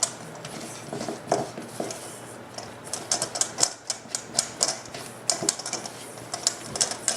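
Peanut butter chocolate cookie dough mixed by hand in a bowl, a steady run of soft clicking and tapping strokes with scraping between, close up and without talk.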